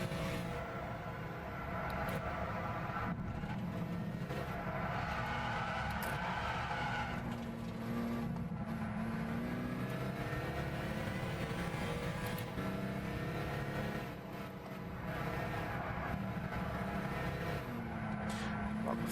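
Tyre skids and engine drone from a Honda NSX race car in the video game Gran Turismo 6, a steady continuous roar of revving and sliding with shifting pitch, loud and close throughout, no voice.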